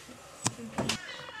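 A cat meows a couple of times in a home, short clear calls near the mic with people talking around it.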